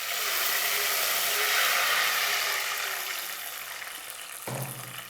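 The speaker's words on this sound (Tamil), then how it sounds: "வெந்தயம் உடனே பொரிஞ்சிடும்." Fenugreek seeds and urad dal splutter and sizzle in hot oil for vatha kuzhambu, a dense close hiss that gradually softens, ending with a short knock of a utensil.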